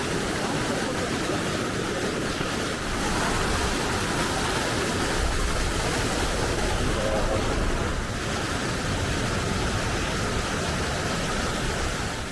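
River water rushing through a forest in Kumrat Valley, a loud, unbroken roar of flowing water filling the whole stretch, broad and close with no distinct breaks.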